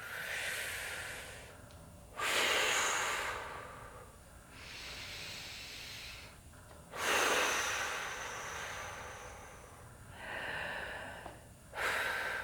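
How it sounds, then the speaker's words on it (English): Slow, deep breaths during a morning stretching routine, three long airy exhales rising and fading at an unhurried pace, close and fairly quiet. "Breathing nice and deep."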